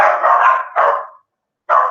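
A dog barks loudly and close by in three sharp, insistent bursts, the first drawn out, with a short gap before the last.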